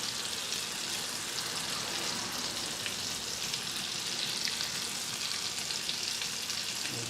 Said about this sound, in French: Le beurre émoussant.